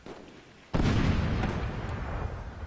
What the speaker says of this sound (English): I'm just breaking out the sniper rifle?